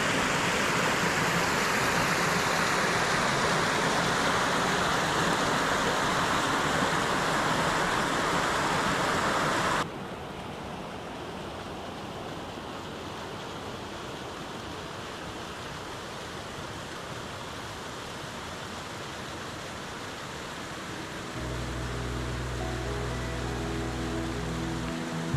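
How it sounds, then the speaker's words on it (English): Steady broadband roar of a waterfall on a creek in Tillamook Forest, Oregon, loud and close for the first ten seconds, then softer and more distant, with a low rumble entering near the end. "another waterfall that I have not seen yet"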